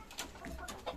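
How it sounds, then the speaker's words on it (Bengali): Pigeons at a Bangladeshi home poultry farm make brief soft calls, close by, mixed with chicken clucks from the same yard. "এই হচ্ছে আমার কবুতর"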